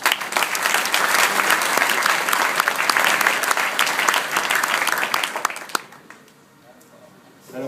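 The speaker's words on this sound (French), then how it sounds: "On peut les applaudir." Loud, dense applause from an awards ceremony audience fills the space, then fades out abruptly, leaving near quiet.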